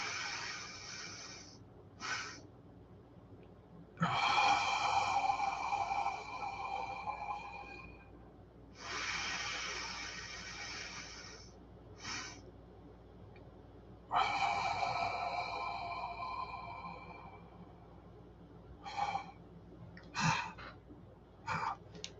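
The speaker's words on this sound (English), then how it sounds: "We're just going to do 2 deep breaths, really filling our lungs, and it's a double intake like this." Two deep breathing cycles from one person, each a double intake of air followed by a long, loud exhale, with short sniffs in between; close and alone, no talking.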